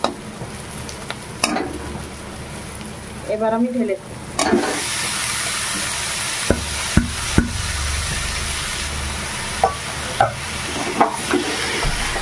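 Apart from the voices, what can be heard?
shrimp frying and being stirred in pan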